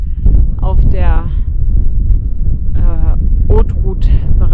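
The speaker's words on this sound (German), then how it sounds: "wie man hört, ist es ordentlich windig" Strong mountain wind in the Italian Alps buffets the microphone with a constant low roaring rumble, while a person talks over it on a high trail.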